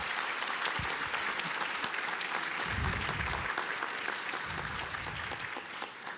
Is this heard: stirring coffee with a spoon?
no